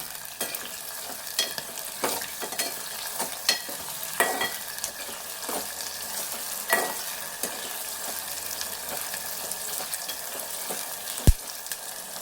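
Okra curry with salt is stirred in a pan over a soft steady sizzle, with sparse scraping strokes spread across the stretch and a sharp knock near the end, with no talking.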